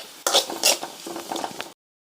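Fresh curry leaves dropped into hot oil with garlic and green chilli for a fish kulambu give sharp sizzling bursts and stirring scrapes, loud at first, then cutting off abruptly.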